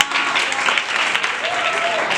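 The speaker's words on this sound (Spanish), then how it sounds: "un aplauso para todos ustedes" Audience at an institutional forum applauds the panelists, a loud, dense, steady round of clapping with faint voices and a brief whistle-like tone mixed in.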